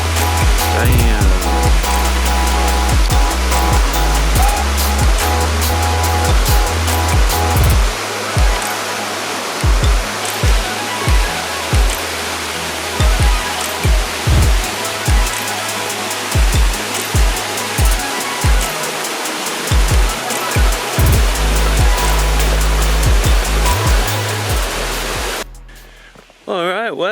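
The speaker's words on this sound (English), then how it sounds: "One pretty waterfall. 2 pretty waterfalls." An Okanagan waterfall rushes in a steady, loud broadband roar that fills the whole stretch, dotted with frequent sharp knocks and clicks nearby, before briefly dropping off near the end.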